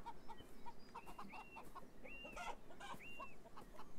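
Chickens in the video game Beyond Eyes cluck in short, scattered bursts, with a few brief rising calls mixed in; the birds sound nearby and no one speaks.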